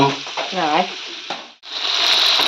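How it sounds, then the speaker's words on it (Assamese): Meat fries in a pan with a loud, close sizzle. A brief voice-like sound comes first, then the sizzle swells into a steady hiss after a short gap. "পূৰা ভাজি আছে মাংস"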